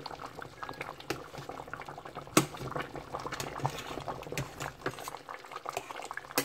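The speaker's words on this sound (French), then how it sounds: "Je reviens à la sauce qui bout très bien, vous voyez, très épaisse." Kreingéssi, a thick Abidji sauce, simmers in a pot with a steady, dense bubbling and popping, heard close and fairly soft, with no talk.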